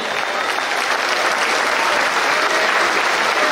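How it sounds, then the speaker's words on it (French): Applause from a crowd at a Sunday festival gathering in Bessan, France fills the moment as a dense, even wash of clapping that holds steady throughout at close range. "Vous pouvez l'applaudir."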